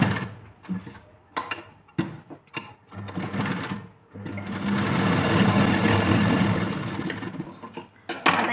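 A sewing machine runs a long basting stitch on a blouse: several short whirring bursts with pauses, then one sustained stretch of steady mechanical stitching, close and clear, with no voice over it.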